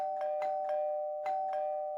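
A doorbell rings in a quick series of bright electronic chimes, five or six strikes over two seconds with a short pause midway, each over a steady sustained tone, close and clear with no voices.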